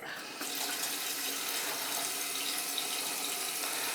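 A household faucet checked for a leak underneath the sink runs in a steady, full stream after a brief quieter start, a constant close hiss of water without talk.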